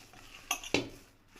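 Ginger garlic paste being mixed into spinach and potato vada batter in a bowl, heard as two quick, close clinks and scrapes of a utensil, then quiet.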